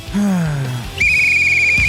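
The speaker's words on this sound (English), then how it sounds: "Blow that whistle." A shrill whistle blows with a short falling tone, then a longer steady high blast, loud and close.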